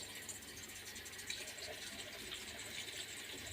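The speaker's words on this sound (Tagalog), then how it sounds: "maglalagay po tayo ng konting tubig para maluto siya" A little water pours into a pan for a home-cooked Filipino dish, a steady hissing, gushing wash that continues evenly without a break.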